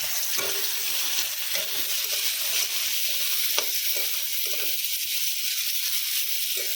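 Figs fry crisp in a pan with a continuous hissing sizzle and occasional faint clicks from stirring.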